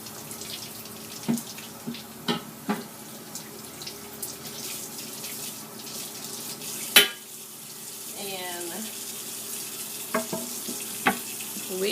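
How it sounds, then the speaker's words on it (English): Chopped onions rinsed in a strainer under a running kitchen tap, a steady close water rush with a few clinks and knocks of the strainer, no talk. "And I'm going to put these in a strainer and rinse them off."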